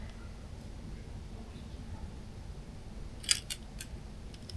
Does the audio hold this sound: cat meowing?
no